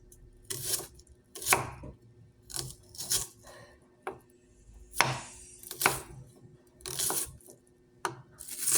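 A knife chopping onion on a cutting board, a series of crisp irregular thwacks spaced about half a second to a second apart, close and clear with quiet between strokes.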